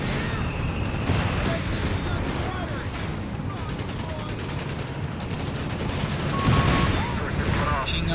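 Sustained gunfire in a Company of Heroes 3 battle between the Afrika Korps and US forces, dense and continuous with overlapping bursts and a louder flurry near the end, with a commentator speaking over it.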